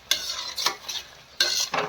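Gram flour batter being stirred in a kadai while making bhajiya-style eggplant curry, with three bursts of scraping and swishing separated by short pauses, close and fairly loud.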